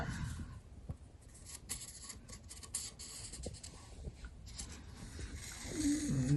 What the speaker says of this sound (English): I'm able to just trace this off, so then I can go take it outside and cut it